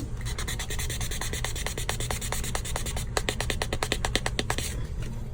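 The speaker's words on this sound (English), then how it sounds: "So I'm just sanding that up." Steady abrasive rubbing of hand sanding a resin 3D print, close up, with rapid rhythmic strokes that grow sharper and more clipped toward the end; no talking.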